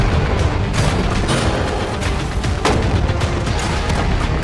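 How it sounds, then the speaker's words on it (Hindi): Tank cannons firing rounds at a target stacked with money, heard as a dense, continuous rumble of booms with a few sharper reports standing out, loud and close. "ये 5 टैंक्स पैसों पर निशाना लगाकर 20 राउंड फायर करने वाले हैं"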